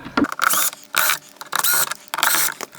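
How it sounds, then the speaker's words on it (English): A power driver whirs in short bursts as screws come out of a car door speaker on a Lexus LS400, four quick buzzing runs close by with brief gaps between them. "you can see there are 4 screws. Go ahead and zap those off."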